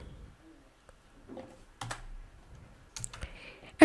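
A computer keyboard is typed on in short, irregular bursts of crisp key clicks with quiet gaps between them, close and fairly soft.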